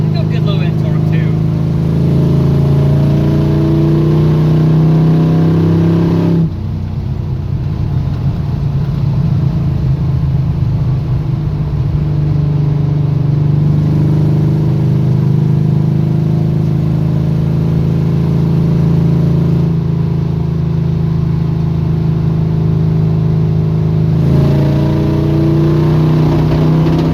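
Engine of a Chevy squarebody drag truck revving and accelerating, a steady loud mid-range drone with pitch rising and falling over the run, with people talking intermittently over it.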